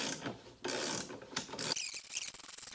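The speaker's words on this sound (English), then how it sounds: "All right, it's loosening." Spring compressor being loosened on a Toyota 4Runner's suspension during a spring replacement, giving close mechanical ratcheting and metallic clicking in uneven bursts, fairly faint with short pauses.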